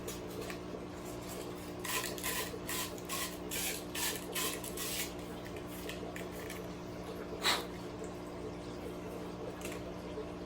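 Sandpaper scrapes along the rough cut edges of an airline intake tube for a breeder box. The rubbing strokes are quiet and quick, heard close over a low steady background hum.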